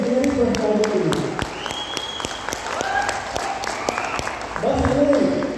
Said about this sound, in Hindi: एक जोरदार ताली के लिए विजनरी पर्सनालिटी के लिए